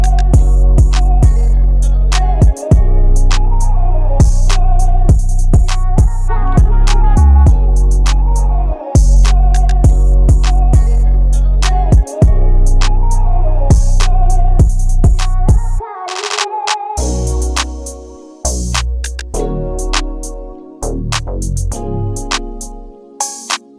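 Trap drum beat with rapid hi-hats, booming bass kicks in triplet patterns and clap rolls, loud and continuous, with the beat dropping out near the end into sparser hits.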